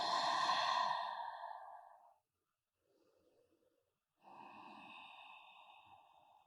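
Slow, deep breaths during a yoga posture: a long audible exhale, a pause with a faint inhale, then another long breath out, close and quiet.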